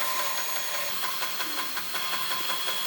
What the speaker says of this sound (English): over to the bandsaw to roughly cut it out